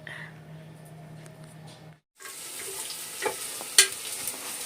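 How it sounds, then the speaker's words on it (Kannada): Onions fry in a pan for mutton curry with a soft, steady sizzle, broken by a brief pause and followed by faint stirring clinks. "ಮಟನ್ ಸಾರಿಗೆ ಈರುಳ್ಳಿ ಫ್ರೈ ಮಾಡ್ತಾ ಇದ್ದೇನೆ"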